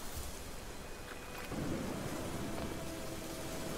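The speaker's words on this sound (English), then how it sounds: "It's raining." In The Witcher 3 video game, steady rain hisses over a low rumble of thunder that swells and grows heavier partway through, loud and enveloping, with no voices.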